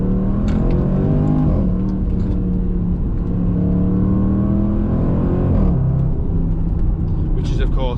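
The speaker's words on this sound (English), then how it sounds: "Which is of course that V8 sound." A Range Rover SVR's V8 engine revs and rises in pitch, dropping back and climbing again, its deep throaty note loud and close with rising harmonics.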